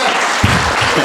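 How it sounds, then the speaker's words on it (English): Audience clapping at a book launch event, a dense steady wash of applause running through the whole moment, with a low voice briefly audible underneath. "I want you to clap, and clap,"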